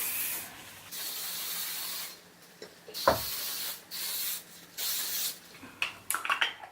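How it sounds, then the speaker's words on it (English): Several short hissing bursts of hairspray, close up, separated by brief pauses, with a quicker flurry of sprays at the end. "I do like to spray a little bit of hairspray before it dries."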